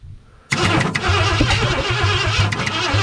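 A 1963.5 Ford Galaxie 500 hardtop, unstarted for about 30 years and backfiring through its mufflers, cranks and catches, then fires into a loud, rough, steady running rumble close by.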